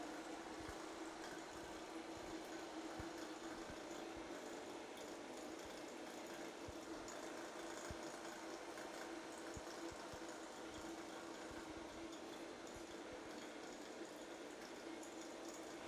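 A vacuum pump runs steadily while an HVAC refrigerant system is evacuated, giving a constant mechanical hum with a faint, rapid rattling pulse, quiet and unchanging throughout with no talking.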